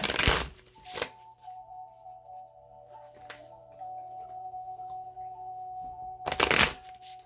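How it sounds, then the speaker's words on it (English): Twin Flame Journey oracle cards by Mystic Moon Oracles are shuffled up close in short riffling bursts at the start, around one second and again near the end, with a soft musical drone between. "I'm going to choose a couple of the Twin Flame Journey Oracle cards by Mystic Moon Oracles to end your reading here."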